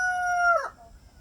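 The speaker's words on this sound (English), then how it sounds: "ibis sounds, and the rooster chicken and turkey gobble sounds." A single rooster crows nearby, a loud sustained tonal call that bends downward and cuts off after about half a second, leaving faint background noise.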